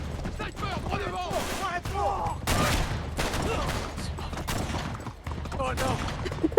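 Gunfire in the Uncharted 3 desert level, with bursts of sharp shots and rattling fire coming close together over a low rumble, mixed with other game noise and faint voices.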